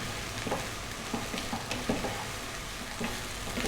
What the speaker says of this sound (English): We're going to flip this around for about another 3 minutes. Again, high heat, stirring pretty much all of the time.